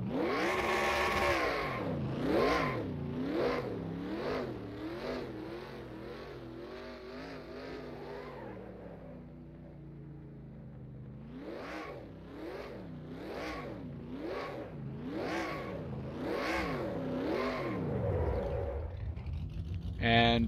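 Stock car engines in a racing video game at Martinsville rev and fall in repeated rising and falling sweeps, loud and close, with a quieter dip midway before the revving returns, and a voice talking over it throughout.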